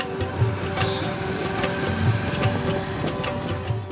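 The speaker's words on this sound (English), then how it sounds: "Thatera market में brass pots को चमकाने का शोर." Brass pots are polished in the Thathera metalworkers' market in Bundi, India, with a continuous busy grinding and scraping din. Sharp metallic clinks and taps break through it at irregular intervals, close and fairly loud.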